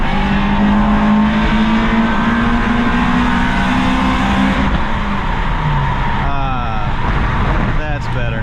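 An Acura RSX Type S with a K20Z1 engine revs hard inside a tunnel, a loud sustained engine roar with rising harmonics echoing off the walls, the pitch shifting as it climbs into VTEC, with a voice briefly under the noise.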